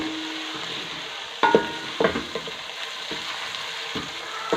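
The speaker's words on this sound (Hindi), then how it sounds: "आपने लहसुन अदरक को इस टाइम तक फ्राई करना है जब तक उसकी स्मेल ख़त्म हो जाए।" Garlic and ginger sizzling and frying steadily in a pan, with a few sharp clicks and stirring knocks from a utensil scraping the pan; close and continuous with no talk.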